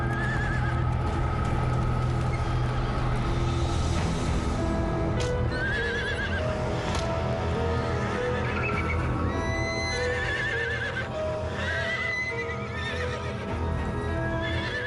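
A frightened mare neighs and whinnies repeatedly amid restless shuffling and hoof clatter, loud and close with a busy stable background at night.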